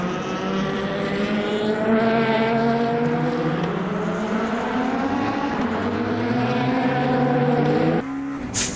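A race car engine in the sim game Le Mans Ultimate screams steadily at high revs, its pitch rising and dipping through the run before a sudden cut near the end.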